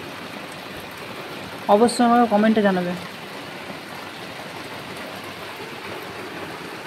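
Steady night rain falls as an even, soft hiss throughout, with someone briefly speaking over it midway.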